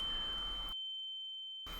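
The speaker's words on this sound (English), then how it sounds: "Hearing cuts out, replaced by relentless ringing." A piercing, steady high-pitched tinnitus ring in a video game, a single unbroken tone that cuts out briefly to silence and then returns.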